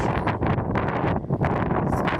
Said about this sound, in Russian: Подул ветер, не предвещая ничего хорошего. Потом он усилился и повалил снег.